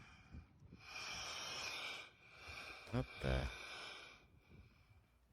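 Ocean waves surge through rocks with a hollow, breath-like whoosh and gasping rushes of air, and a voice briefly exclaims partway through.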